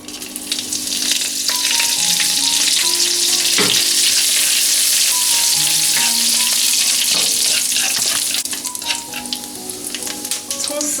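Chili peppers fry in hot oil in a wok, a loud, dense crackling sizzle that runs throughout with scattered pops and stirring scrapes, close and continuous.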